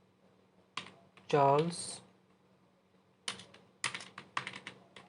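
Keys tapped while an answer option is typed into an online quiz form, a short burst of light clicks following a spoken word, fairly close and quiet.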